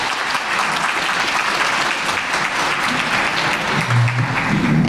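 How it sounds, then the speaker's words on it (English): Conference audience gives a sustained round of applause for a student bursary award winner, a dense, even wash of many hands clapping at close range throughout. "big round of applause for Trennon."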